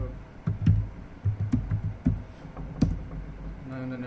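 Typing a terminal command on a computer keyboard to fix a Linux wifi fault, with irregular clusters of soft key clicks close by and a brief pause between bursts.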